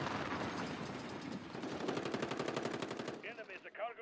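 Rapid automatic gunfire in Modern Warfare team deathmatch, a loud sustained burst of shots firing in quick rhythm for about three seconds before cutting off, followed by brief game sound effects.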